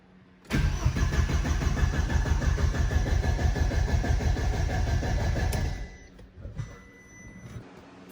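A car engine cranks and fires for its first start on a standalone ECU, catching abruptly and running loud and steady for about five seconds before cutting out, followed by quieter mechanical rattles and a brief restart attempt.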